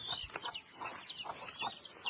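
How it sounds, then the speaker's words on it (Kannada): Chickens cluck on a hillside farm that also keeps cows, a string of short, fairly faint clucks and squawks coming in quick irregular bursts. "ನೋಡಿ, ಕೋಳಿ ಎಲ್ಲ ಸಾಕಿದ್ದಾರೆ,"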